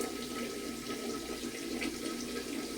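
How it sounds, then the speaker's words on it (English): Tap water runs steadily into a bathroom sink during morning face washing and tooth brushing, a continuous close splashing hiss with no talking. "Brush my teeth, wash my face."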